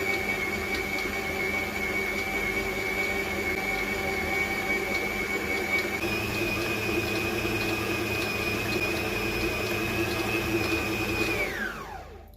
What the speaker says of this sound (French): nous allons pétrir pendant 2 minutes en deuxième vitesse